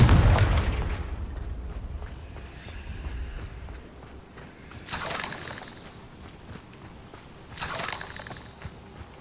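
A Confringo fire spell explodes in the Hogwarts Legacy video game, opening with a loud booming blast that fades into a rumbling tail, followed by two softer hissing bursts.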